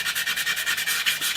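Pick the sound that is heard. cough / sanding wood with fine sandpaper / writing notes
sanding wood with fine sandpaper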